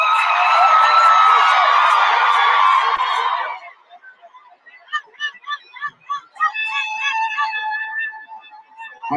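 A crowd roars and screams loudly for about three seconds, then falls away to scattered shouts and voices calling out over a sparser background.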